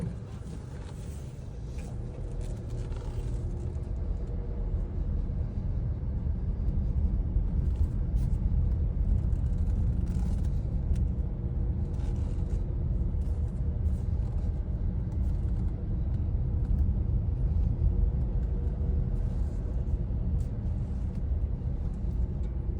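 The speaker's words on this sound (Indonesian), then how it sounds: "Aman ya, cuma bunyi gemuruh ban aja." Tyres of a 2020 Honda Brio rumble steadily over paving as the car drives along, a continuous low road roar heard from inside the cabin with no talking.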